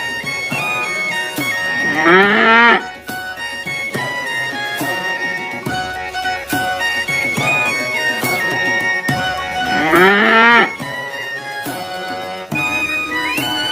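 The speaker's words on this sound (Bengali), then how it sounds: "গয়ে গরু বাছুর দাঁড়িয়ে আছে" Cattle lowing in two drawn-out, rising moos, a cow and her calf, each about a second long and set into a bright, busy children's music track that plays throughout.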